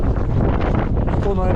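Strong wind blasts across open ice during a blizzard on a pike fishing trip with tip-ups, a loud steady roar buffeting the microphone through the whole short stretch.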